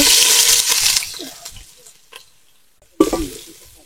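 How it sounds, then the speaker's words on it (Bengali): Chopped onions frying in oil in a pan, stirred with loud sizzling and scraping at first that fades, then a sharp clatter and renewed sizzle near the end. "নেড়ে তারপর বাদামি করে নিব, নাড়তে থাকবো বাদামি হওয়া পর্যন্ত"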